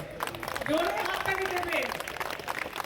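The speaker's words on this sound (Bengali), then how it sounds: "এটার জন্য একটা খুব জোরে হাততালি দেবেন" An audience claps and cheers at the inauguration of a BJP service centre in Kolaghat. The applause is steady and fairly loud throughout, with raised voices mixed into it.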